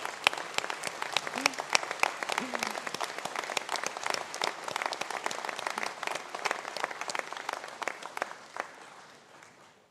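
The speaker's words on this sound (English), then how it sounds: "give them, please, a round of applause" Graduates and supporters at a university conferring ceremony break into loud, sustained applause from a large crowd, with a few faint voices underneath, the clapping fading gradually at the end.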